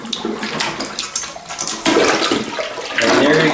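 A clogged toilet being plunged, with water sloshing and surging loudly and continuously, then a stronger rushing swell as the water moves freely, close and with no voices.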